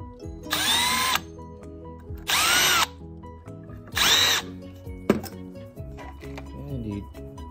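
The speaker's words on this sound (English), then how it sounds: "Drill out these holes to get the paint off so that the pivots run freely." Power drill boring dried paint out of the pivot holes on a clamped plantation shutter, three loud whining bursts of about half a second each, separated by pauses and light clinks, with music playing underneath throughout.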